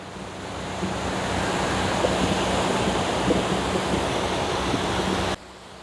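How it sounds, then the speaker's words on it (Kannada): Ocean waves on the beach at Malpe, Udupi, a continuous broad roar of surf with some wind rumble, loud and steady, then dropping abruptly just before the end. "ಬೀಚ್"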